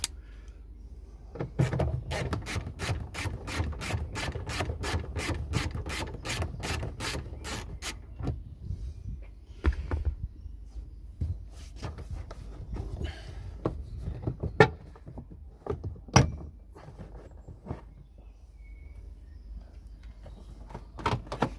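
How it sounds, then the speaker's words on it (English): Car side trim panel being pried off during a reverse camera install, giving a rapid train of sharp plastic clip snaps and ratcheting clicks, then slower scattered pops and rattles of handling close by. "Let me get this side trim off."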